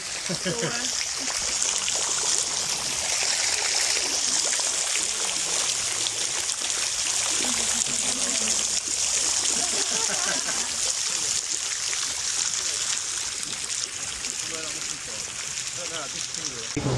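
Mineral water drips and trickles inside Mother Shipton's Cave, a continuous wet patter filling the space while people chat nearby throughout.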